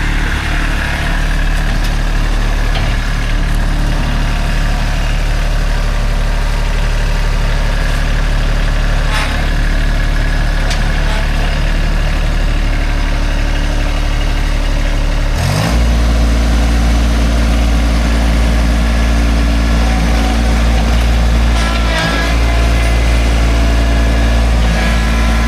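A tractor engine idles loudly and close by, a steady low throbbing rumble that holds for the whole stretch, broken only by a brief clunk partway through.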